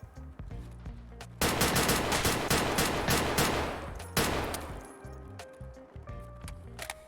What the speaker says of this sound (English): prepare yourself for the worst gunfight you've ever seen